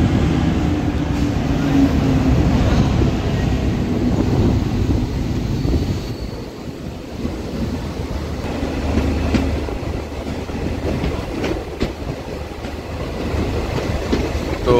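A local train pulls out of Udaipur station in Tripura, India, with a loud, continuous rumble and rhythmic clickety-clack of wheels over rail joints, heard from on board.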